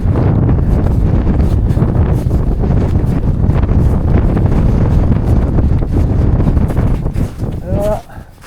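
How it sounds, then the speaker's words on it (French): Strong mountain wind buffeting the microphone at the summit of Aneto in the Pyrenees, a loud continuous roaring rumble that drops away near the end, with a person speaking briefly. "il y a du vent."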